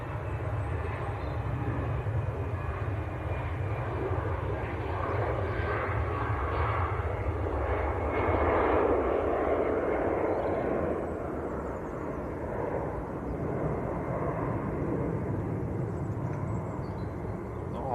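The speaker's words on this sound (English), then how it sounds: "EasyJet to Jersey. Airbus A320." An easyJet Airbus A320 airliner bound for Jersey passes over at Manchester Airport, a steady broadband engine roar that swells slightly toward the middle and then holds, continuous with no talk.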